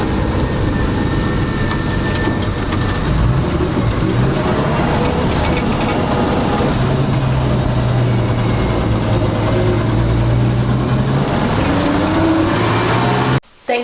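A 68-year-old truck engine runs after start-up with a loud, steady, close rumble and a continuous low drone that cuts off abruptly at the very end.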